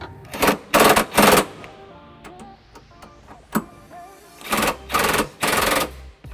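A ratchet wrench with an extension and a 3/4 socket snugs up trailer hitch bolts on a 2004 Pontiac Aztek, giving loud, close bursts of rapid clicking with short pauses and fainter ticks in between.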